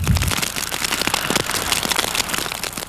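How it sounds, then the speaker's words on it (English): Freezing rain and ice pellets falling during the 1998 Montreal ice storm, a dense, close, continuous patter of tiny crackling hits with no pauses. "The freezing rain poured down again all night long."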